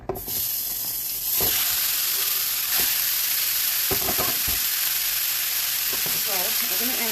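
Meat for carne con papas en salsa roja sizzles loudly in a hot pan on high heat, a steady broadband frying hiss throughout with a few brief stirring or scraping noises.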